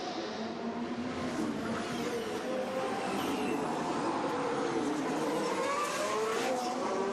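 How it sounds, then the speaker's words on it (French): Formula 1 car driving at the Monaco Grand Prix in the 2022 season, a steady high engine whine with shifting pitch sweeps heard continuously, somewhat distant and moderately loud. "Guan Yu Zhou qui découvre Monaco au volant d'une Formule 1."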